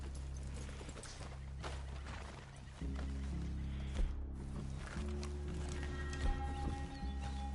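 Horses' hooves in the Red Dead Redemption 2 video game, a soft run of clip-clop steps at low level over a steady game ambience, with a faint whinny-like tone and occasional thuds.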